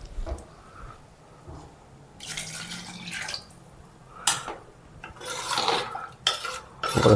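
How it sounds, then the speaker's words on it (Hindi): Water poured into a pressure cooker in a home kitchen, splashing and trickling in uneven bursts with clinks of metal pot and utensils, close and moderately loud, no talking. "देखो बढ़िया से पानी डालते हैं ज़रूरत के अनुसार"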